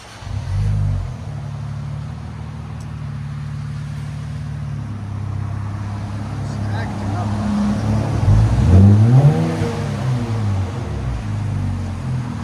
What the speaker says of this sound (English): 2024 Nissan Z. This is after with AWE track system.